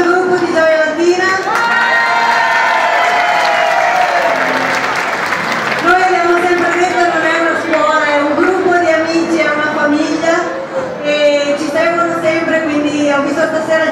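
An audience at a live show claps and cheers, steady loud applause with whoops and shouts from a crowd that includes children, with voices mixed in throughout.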